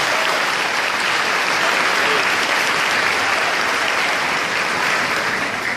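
Steady, dense applause from an audience at a Catholic preaching event, close and full throughout without letup.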